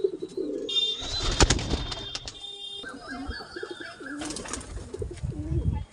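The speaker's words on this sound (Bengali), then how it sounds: "এই হচ্ছে নর পায়রাটা, খুব সুন্দর দেখতে।" Porpon pigeons coo in a low, repeated rolling rhythm, close and fairly loud, with several birds calling over one another and occasional chirps and rustling in a loft.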